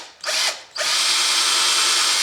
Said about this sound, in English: I'm just going to take the drill here and just put one right in the center of this arm.